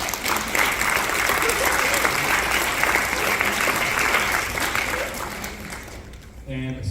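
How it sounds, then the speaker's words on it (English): A symphonic band's spring concert audience applauding, loud sustained clapping filling the hall before it cuts off near the end, where a voice starts speaking. "I hope you're able to give yourselves a round of applause here for your contribution"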